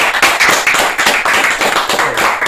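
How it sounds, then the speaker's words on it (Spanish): Audience claps at a rock show, a close, loud burst of hand claps in a fast, uneven patter with no talk over it. "Un aplauso."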